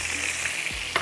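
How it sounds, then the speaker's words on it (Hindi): Tomatoes, cumin, mustard seeds and curry leaves sizzling in hot oil for a tadka, a steady close frying hiss with a small pop or stir near the end. "टमाटर, जीरा, राई और कड़ी पत्ते का तड़का लगाएंगे।"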